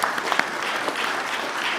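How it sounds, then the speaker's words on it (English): An audience at a Norristown Municipal Council meeting claps for guests, a steady round of moderately loud applause filling the room for under two seconds, with a faint voice underneath. "Can we clap for them?"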